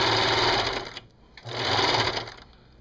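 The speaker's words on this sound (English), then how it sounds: "I'm going to use my serger, but again, you can use your regular sewing machine with an overlock stitch." A serger overlock sewing machine stitching a T-shirt runs in two quick bursts of rapid, steady stitching, separated by a short pause, close and fairly loud.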